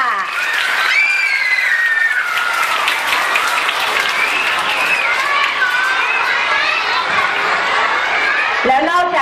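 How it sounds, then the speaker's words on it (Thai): A crowd at an award ceremony applauds loudly and steadily, the clapping running the whole way through while excited cheering, chatter and children's voices rise above it. "ปรบมือให้ปรบมือดังๆเลยค่ะ"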